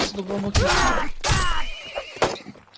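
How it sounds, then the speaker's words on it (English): Horse neighs in a multiplayer medieval combat video game match, several loud whinnying cries rising and falling over game noise, with a commentator talking over them. "Master of Sword losing his horse there"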